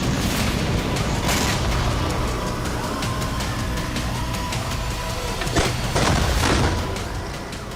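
Israeli bombardment in southern Lebanon gives a loud, continuous rumble of heavy blasts and booming, with sharper cracking reports standing out near the end, heard without any voices.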